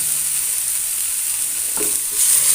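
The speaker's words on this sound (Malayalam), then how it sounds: "ഇത് നല്ലോണം ഒന്നും കൂടി വാട്ടിയെടുക്കാം" Spiced food, a chilli-powdered mixture for healthy puttu, sautés in a pan with a steady bright sizzle and a brief stir partway through, close and alone.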